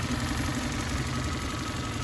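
A 1.5-liter non-interference engine in a 1998 Toyota Corolla II Super Windy G idles steadily up close, a continuous even hum with slight vibration and no talk.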